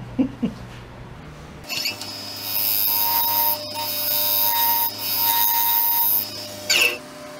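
A woodturning tool cuts a spinning resin and wood bowl on a lathe and catches on a chunk of metal buried inside. A harsh, steady high-pitched screech and whine follows the initial knocks, with sharp bursts near the start and end.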